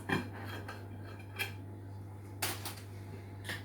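A knife cuts through potatoes on a board with a few separate soft chopping taps, quiet and spaced out over a steady low hum.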